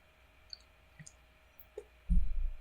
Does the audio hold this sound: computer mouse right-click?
yes